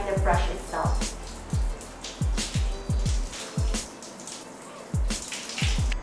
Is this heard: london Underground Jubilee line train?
no